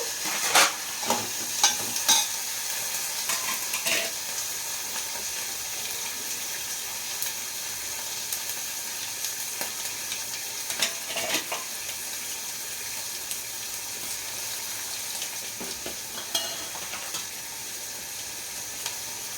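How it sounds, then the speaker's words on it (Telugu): Steady crackling sizzle of chopped onion frying in hot tempering oil for dal, with occasional clinks and stirring sounds, no talking. "పోపు వేగిన తర్వాత పప్పు కోసం ఒక ఉల్లిపాయను తరిగి వేస్తున్నాను"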